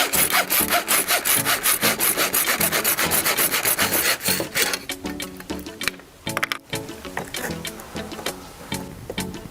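A saw cuts through a piece of coconut shell in fast, rhythmic back-and-forth rasping strokes, close and clear, slowing into irregular scrapes near the end with no voices.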